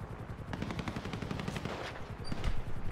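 Rapid bursts of automatic gunfire crackle continuously in GTA 5, sustained and fairly loud with dense clattering shots.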